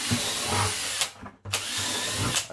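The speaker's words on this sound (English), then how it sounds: "you can drill as many holes in this bottom bucket as you want" A power drill bores holes into a plastic 5 gallon bucket, two loud whirring bursts with a brief pause between them, close up and with no talking.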